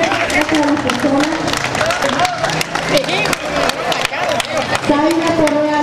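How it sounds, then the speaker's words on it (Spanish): Applause for people whose names are being called out at a community gathering: dense, continuous clapping from a crowd, with voices talking and calling over it throughout. "Un aplauso a las personas."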